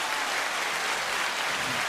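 A steady, even wash of sound like an audience clapping, so uniform it could pass for rain, filling the whole brief stretch at a constant level with no voices.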